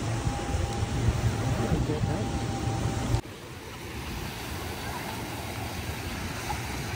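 Ocean waves washing onto a beach where children play in the surf, a constant loud roar of surf with heavy wind buffeting the microphone, easing after an abrupt cut partway through.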